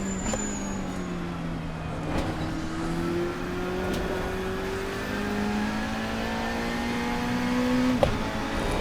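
A RaceRoom GT-M Lanzo V8 race car in the Assetto Corsa game at Imola runs a loud, continuous engine note whose pitch climbs steadily through the gears, broken by quick shift cuts.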